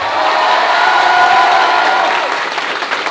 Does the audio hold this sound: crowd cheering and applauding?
yes